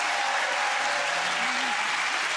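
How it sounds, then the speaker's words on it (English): A studio audience at the comedy panel show Mock The Week applauding, steady dense clapping that fills the room throughout, with a brief faint voice underneath. "Give that round of applause to Felicity and Nish."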